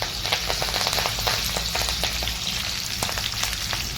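Garlic and curry leaves sizzle in hot oil with fried cumin while chivda is being made, a steady close crackle with scattered popping throughout and no talking.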